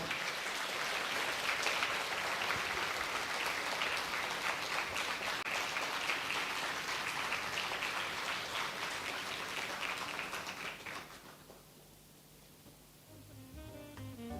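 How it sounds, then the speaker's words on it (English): An audience applauds at a naval flag-in ceremony for the INSV Tarini sailing expedition, a dense, steady wash of clapping for about ten seconds that then fades and dies away into quiet room tone. "Let's give a round of applause for the mother of Lieutenant Commander Rupa."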